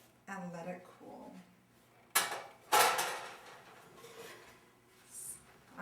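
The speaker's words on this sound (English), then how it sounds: "when bread comes out of the oven, you take it out of the pans quickly and let it cool" Whole wheat bread loaves are knocked and tipped out of metal baking pans, giving two sharp clattering bangs amid quieter scrapes and rattles, with a voice speaking at the start.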